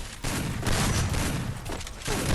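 Gunfire in the Free Fire mobile battle game: a dense, loud burst of rapid shots rattles continuously for a couple of seconds, with no talking over it.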